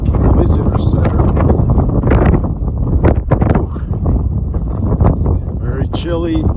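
Strong wind roars and buffets the microphone in a continuous, loud rumble on the summit of Pikes Peak, with a voice briefly audible near the end.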